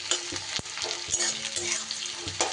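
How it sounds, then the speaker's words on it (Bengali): Chopped onion, ginger and garlic fry in hot oil in a pan, sizzling steadily and close, with a few sharp clicks of a spatula stirring through the continuous hiss. "এবার পেঁয়াজ, আদা, রসুন বেশ ভালো করে একটু সময় ভেজে নিতে হবে।"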